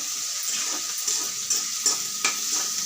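Gongura leaves and onions frying in a pan, a bright continuous sizzle with a few sharp stirring scrapes against the pan, close and without speech.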